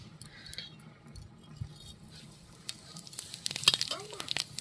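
Whole cumin seeds sizzle in hot oil in a wok at home, a soft crackling hiss that builds toward the end with a few sharp clinks and pops, close and fairly quiet.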